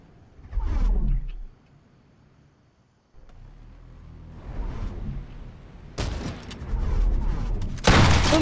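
Bursts of gunfire from the Fortnite video game, loud cracks and rapid volleys that come and go across the stretch, with a brief quiet gap in the middle.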